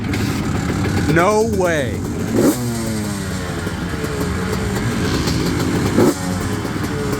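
A Honda CR125R two-stroke dirt bike engine revs loudly and rises in pitch in repeated bursts, with a sharp crack near the middle and another near the end, while people talk and exclaim over it.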